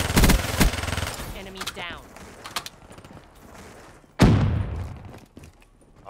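The Vesper submachine gun fires in a shooter video game in rapid automatic bursts: a long dense stream of shots, a pause, then another loud burst, with voices talking over it.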